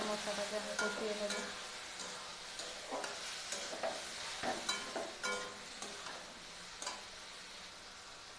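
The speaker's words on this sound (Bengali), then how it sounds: "এবারে ভালো মতো মশলাটাকে আমি কষিয়ে নেব।" A spice masala for fish-head muri ghonto is stir-fried in a pan: soft sizzling under repeated sharp scrapes and taps of a spatula, moderately quiet and close, with no talking.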